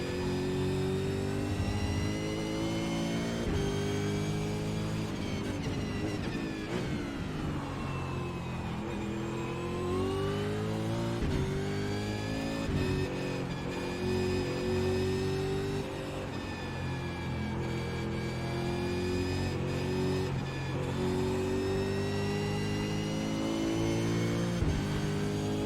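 Supercars race cars roar around Road America in iRacing, a continuous loud engine whine rising and falling in pitch through gear changes as cars blitz past, with no talking.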